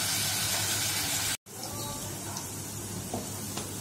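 Onions frying in a pan for a chapila fish curry, a steady close hiss of sizzling oil that cuts out briefly, then resumes with faint stirring scrapes.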